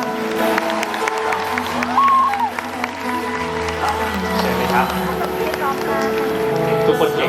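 At a fan event's final night, a crowd applauds and cheers in a busy, reverberant hall, with an announcer's voice and background music running over the clapping.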